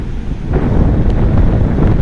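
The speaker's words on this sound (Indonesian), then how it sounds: "ombaknya gede ya, anginnya kencang, ombaknya gede, lumayan bisa bikin kapal goyang" Strong wind roars into the microphone at Bakauheni harbour on the Sunda Strait, with big waves surging beneath it, a dense, loud, continuous rumble with no voices.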